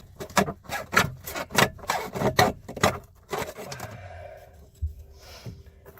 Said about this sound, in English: what I'm going to do is slice the end of this pipe